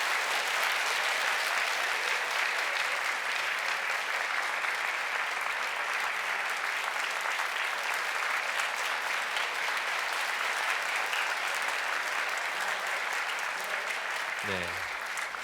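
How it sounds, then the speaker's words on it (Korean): A large congregation claps steadily through a graduation worship service at a Christian elementary school. The dense, even applause holds at full strength from start to finish. "큰 박수로 감사함을 표해 주십시오."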